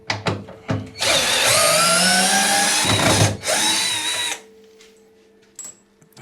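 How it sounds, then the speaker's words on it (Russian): A cordless drill unscrews the shock absorbers from the tub of a Bosch Serie 6 washing machine. It gives several short whirring bursts, then a long loud run of about three seconds with one brief break, and stops. "Теперь откручиваем аморты."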